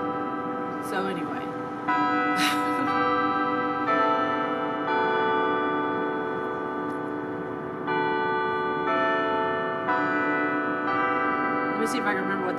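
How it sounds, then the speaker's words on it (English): Church bells ringing, steady sustained tones with a few sharp strikes standing out, moderately loud and ongoing throughout the clip. "the bells of the church are ringing"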